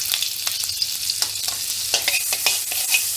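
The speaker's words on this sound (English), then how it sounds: "Medium the flame as the pan is already hot. Put some butter." Butter sizzles in a hot pan on a medium flame at the start of a white sauce, a steady frying hiss with frequent scraping and stirring clicks, close and continuous with no talking.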